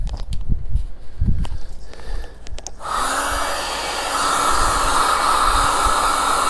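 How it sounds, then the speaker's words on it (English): A heat gun warms the adhesive backing of a car badge on a Fiat 500 Pop. After a few soft handling clicks and thumps, a steady, loud rushing hiss starts and holds. "got the heat gun here, warm up the backing"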